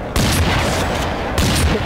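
Gunfire in a shooter video game, a dense, loud burst of shots filling the short stretch with two sharp onsets, with no talking over it.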